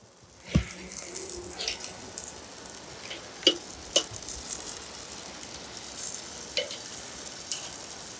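Buffalo chicken wings sizzle steadily on a Weber grill, a continuous crackling hiss broken by a few sharper pops and clicks of handling, close and moderately loud with no talking.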